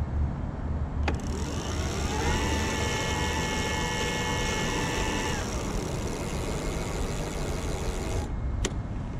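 A Bafang BBS02 750W mid-drive eBike motor runs on throttle alone, its electric whine rising in pitch, holding steady for a few seconds, then winding down over constant road or wind noise.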